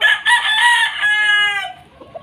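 A Golden Boy Sweater gamefowl rooster crows once, loud and close, in a long harmonic call that trails off, followed by faint quiet.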